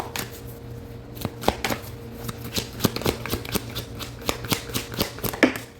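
Playing cards are shuffled and drawn in a quick, uneven run of crisp riffles and snaps, close and fairly loud, with no talk over them.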